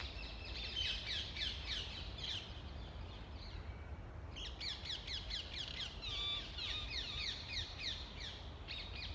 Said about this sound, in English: So we've got the birds